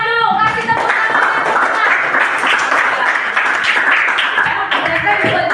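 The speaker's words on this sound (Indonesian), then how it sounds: "Kasih tepuk tangan." Classroom audience applause, a lively burst of students clapping that fills most of the clip at close range, preceded and followed briefly by a voice.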